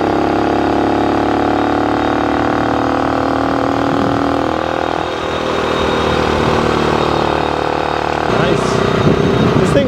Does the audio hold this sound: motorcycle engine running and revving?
yes